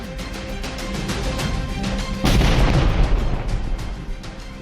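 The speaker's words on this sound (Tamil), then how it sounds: "ராக்கெட் லாஞ்சர் வெடிகுண்டை ராணுவத்தினர் வெடிக்கச் செய்தனர்" Army personnel detonate a rocket launcher bomb found in a derelict well near Keelambakkam in Chengalpattu district, a sudden loud blast midway through rumbling noise that leaves a heavy lingering roar.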